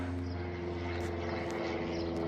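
A propeller airplane drones overhead in farm country, heard from inside a barn, its steady engine hum faint and continuous with a slight rising tone.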